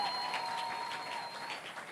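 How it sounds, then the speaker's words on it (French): A church congregation claps hands together for the Lord in a continuous, even wash of applause, with a faint steady tone running underneath and no talking. "applaudissez bien"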